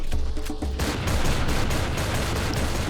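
Shotgun and pistol fire in Serious Sam 3: BFE, loud and near, a dense stream of rapid shots with booming impacts that runs continuously, with a quieter patch of separate shots at the start.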